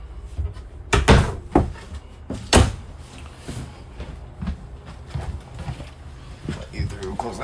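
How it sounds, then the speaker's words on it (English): A door on a 2022 Forest River Salem Grand Villa 42FLDL travel trailer closes with a couple of sharp thuds, mixed with shuffling and handling noises and someone talking nearby. "close that door"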